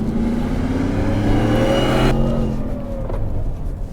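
Shelby F-150 Super Snake pickup truck engine pulling hard at road speed, a loud, close, steady drone with rising tones before easing off midway.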